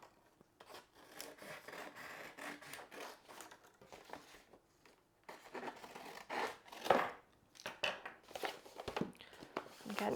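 Pleated paper being trimmed along its edge, giving soft repeated rasping, rubbing cuts at close range, uneven and fairly quiet, continuing throughout.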